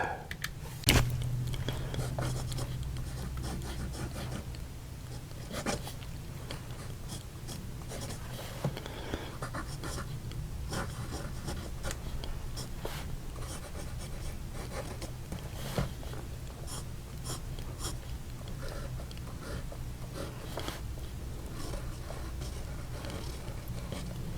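A flex fountain pen nib scratching and gliding across paper in a long continuous run of strokes, close up and soft, with no talking.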